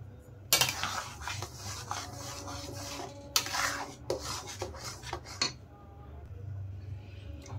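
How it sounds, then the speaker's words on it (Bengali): Strained tomato paste cooks in a wok while a metal utensil scrapes and stirs it repeatedly, giving clattering, rasping strokes close by over a low background hum. "কড়াইয়ের মধ্যে এখন আমি টমেটো পেস্ট দিয়ে দিচ্ছি, দিয়ে কিন্তু ভালো করে জাল দিতে হবে।"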